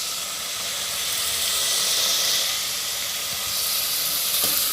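Masala of turmeric and pounded black homemade spice mix sizzling in hot oil for katachi amti, a steady broad hiss close by with no talk.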